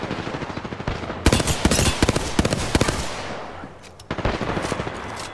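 Loud gunfire in Apex Legends, with rapid automatic bursts, a dense volley of close shots, a short lull, then another heavy burst of fire.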